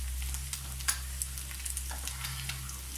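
Mung beans boiling in a pot for gisang monggo, a steady bubbling simmer with soft irregular pops and crackles over a low constant hum, fairly quiet and close, with no talking.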